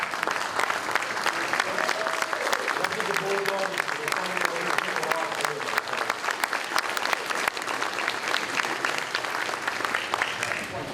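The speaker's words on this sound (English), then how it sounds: "You guys want to clap." A standing audience at a city State of the City address claps steadily for about eleven seconds, a dense crackling wash of many hands with faint voices underneath.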